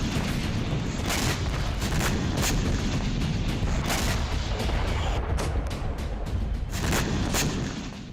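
A rapid series of heavy booms and blasts, one after another, loud and rumbling with little pause between them.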